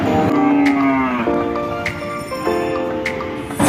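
At a crowded cattle market in Chowgacha, Jessore, a cow lets out a long, loud, close moo, with the murmur of the busy market and faint bell-like rings behind it.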